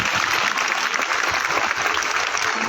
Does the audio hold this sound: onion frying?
no